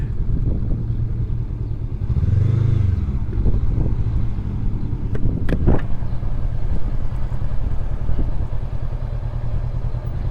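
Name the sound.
motorcycle engine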